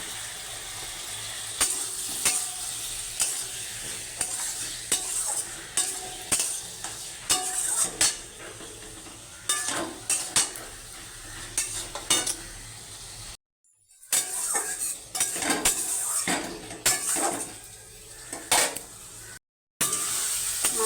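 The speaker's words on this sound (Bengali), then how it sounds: "জিরে আর পাকা লঙ্কা বাটা আমি একসাথে দিয়ে দেবো মশলাটা ভালো করে কষিয়ে নেবো" A masala of cumin and red chilli paste sizzles and fries in a pan while a spoon scrapes and stirs it in repeated close strokes, with brief silent gaps partway through.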